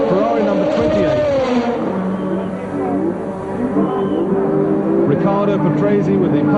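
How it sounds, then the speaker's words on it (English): A Ferrari Formula One car from the 1983 season comes into the pits, its engine a droning, shifting roar under loud race commentary, with other racing cars heard through the crowd noise. "René Arnoux comes in from second place, Ferrari number 28."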